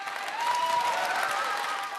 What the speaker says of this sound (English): As the bill was passed at Holyrood, supporters of gender recognition reform stood up to applaud